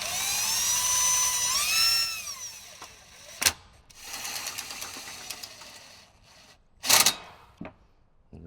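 A power tool tightens the bolts on a remounted pump on a Jeep Wrangler JK, with a rising whine at the start followed by short sharp bursts of tool noise separated by quieter mechanical sounds.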